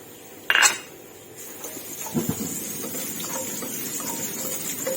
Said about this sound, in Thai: ก็จะเอากระเทียมลงไปผัดก่อนค่ะ